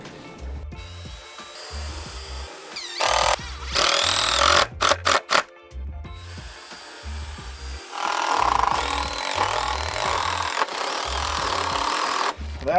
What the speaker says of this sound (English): So we're gonna countersink these and then we'll screw them on.